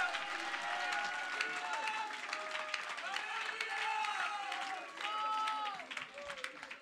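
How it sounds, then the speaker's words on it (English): A church congregation at a conference claps and shouts in praise, steady clapping under a swell of raised voices and cheering calls that rise and fall across the room, moderately distant, with a brief dip before surging again. "Now would you clap your hands and shout unto God before you're seated."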